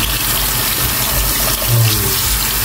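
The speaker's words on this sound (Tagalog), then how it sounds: "huhugasan natin yan kasi may asin" Running tap water pours steadily into a sink as salted food is rinsed under it, a close, continuous splashing stream with no voices.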